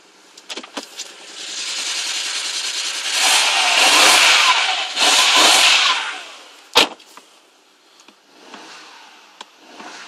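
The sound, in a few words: BMW 135i engine misfiring, running on five cylinders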